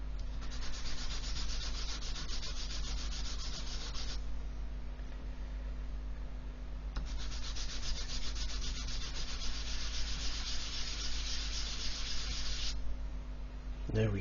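Sanding a plastic cockpit part from an Airfix 1/24 F6F-5 Hellcat model kit, two long bursts of fast, close, quiet back-and-forth rasping separated by a short pause.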